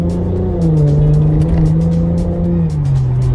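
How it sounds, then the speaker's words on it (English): A Mercedes-Benz SL400 convertible with the roof off accelerating, its engine note rising into a deep, throaty drone heard close and loud, steady and alone. "hopefully you can get an idea of the sound of the car. Put my foot down a little bit."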